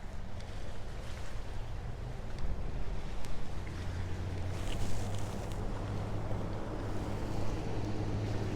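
A boat motors across open water with a steady low engine drone, washed by wind and waves, and the hum swells slightly partway through.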